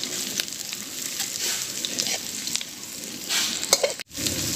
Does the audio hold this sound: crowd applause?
no